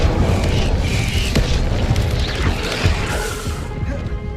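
A fire spell is cast in the video game Hogwarts Legacy, giving a loud, sustained roar of booming crashes and rumbling blasts that stays dense and forceful throughout.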